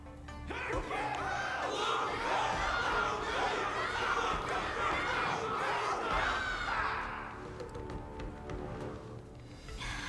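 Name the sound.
crowd cheering in Honkai: Star Rail video game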